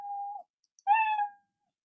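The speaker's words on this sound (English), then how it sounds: "I'm going to play the meow sound." A cat meow sound effect plays in the Scratch program: a short, clean tone, a brief gap, then a brighter two-part meow, isolated against silence.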